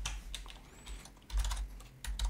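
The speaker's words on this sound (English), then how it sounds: "you just press Alt on your keyboard and either the Enter button or the Return button" Someone types on a computer keyboard, working in an Excel spreadsheet: irregular clusters of light key clicks with a few heavier thuds, close and alone without speech.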